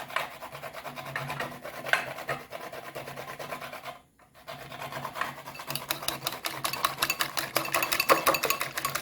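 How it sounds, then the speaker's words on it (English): Rhythmic rasping and rubbing of a hand grater working ingredients for a Jamaican fruit cake in a home kitchen, steady scraping strokes close by, briefly pausing before resuming more vigorously. "If anything, we just grate it a little more"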